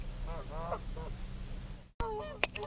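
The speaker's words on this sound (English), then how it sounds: "what kind of geese would you say those are?" Geese at a lake honk in a series of nasal calls, a few overlapping honks followed by a short gap and then a louder burst, heard over low steady background rumble.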